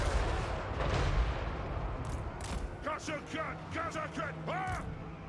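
Cannons fire in the battle game Total War Warhammer 3, with deep booming shots and rumbling blasts over ongoing battle noise. Someone talks over the later volleys.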